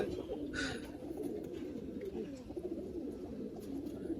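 Pigeons coo in low, soft, rolling murmurs, several birds overlapping at moderate distance, with a faint higher chirp or flutter early on.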